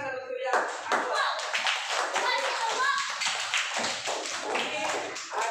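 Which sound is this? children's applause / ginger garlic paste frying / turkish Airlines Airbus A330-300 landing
children's applause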